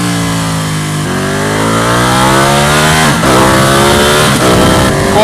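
A Ducati 1199S Panigale motorcycle engine revving hard and accelerating through the gears, loud and close, with rising tones and brief dips at the shifts.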